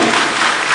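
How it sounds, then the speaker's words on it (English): Audience applause at a digital technology conference in Nigeria, a brief burst of dense, steady clapping from a crowd filling the whole moment. "Give yourselves a round of applause for that."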